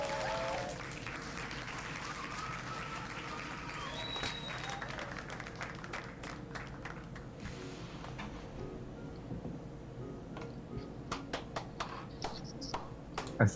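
Audience clapping in a virtual awards ceremony, a dense wash of applause that thins into scattered individual claps toward the end, heard under a quiet voice.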